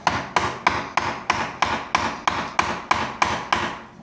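Hammer tapping a window glide down while installing a JELD-WEN impact window in a concrete block opening, about eleven evenly spaced sharp knocks, close and loud, with no talk.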